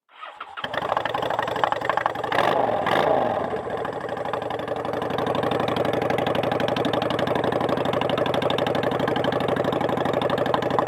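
A Kawasaki KZ motorcycle engine with exhaust baffles installed cranks and catches, revving briefly before settling into a steady, rhythmic idle that runs loud and close without any talking.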